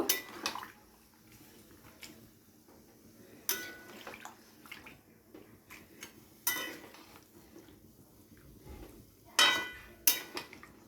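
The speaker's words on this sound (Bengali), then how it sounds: "সমস্ত কিছু দিয়ে খুব ভালো করে নাড়াচাড়া করে নিয়ে চিকেনটাকে সিদ্ধ হতে দেব" Clinks and scrapes of a spoon against a cooking pot as chicken biryani with rogan is stirred, several sharp metallic knocks at irregular intervals over a low background hiss, with no talking.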